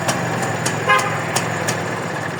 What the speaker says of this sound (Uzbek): Signalchalari ham bor. Signallar chilli.